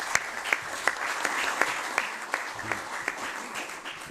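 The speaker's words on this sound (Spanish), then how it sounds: "Un aplauso para don Carlos Gerafe." Applause from an audience at a commemorative book presentation in the Canarian parliament, moderately loud with a few distinct sharp claps standing out over a steady patter of hands.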